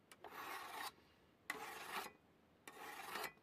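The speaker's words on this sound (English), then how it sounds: "it's just watching me sharpening a knife" A knife blade is drawn across a sharpening stone in three long, close rasping strokes separated by short pauses, with no talking.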